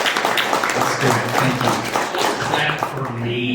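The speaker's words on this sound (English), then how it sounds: "Clap for me. Clap for him." Scattered clapping and cheering from a convention audience, dense and lively, with voices mixed in throughout.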